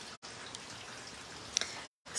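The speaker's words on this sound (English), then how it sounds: "There's Mallory, and it's raining." Rain falls on an outdoor deck as a steady, soft patter with a few sharper drips, faint and continuous with brief gaps of silence.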